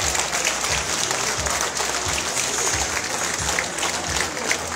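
An outdoor crowd at a political rally in Malito for Giuseppe Conte claps continuously and loudly, a thick, even wash of applause with no pauses throughout.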